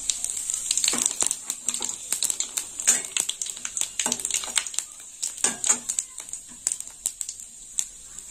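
Panch phoron five-spice seeds hit hot oil in a close, lively crackle: dense irregular pops and spits over a continuous bright sizzling hiss, with no talking.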